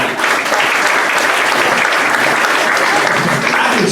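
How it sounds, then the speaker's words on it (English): Loud, steady applause from an audience at a Rotary club meeting right after an invocation, a dense continuous wash of clapping sustained for about four seconds. "the first time I've ever heard an invocation get a round of applause"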